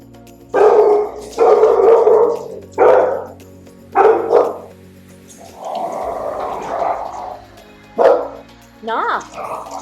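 Several pet dogs bark loudly and close by indoors, a run of sharp repeated barks with a longer howl-like bark in the middle and more yips at the end.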